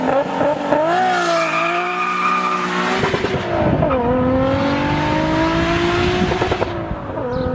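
The car nicknamed Godzilla screams past loudly as a race car, its engine note climbing through gear changes with tire squeal and a rising, revving tone.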